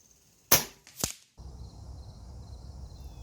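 A .25 Avenger air rifle fires one sharp, loud crack at an outdoor range, followed about half a second later by a second snapping impact at the target, then quiet wind-like background.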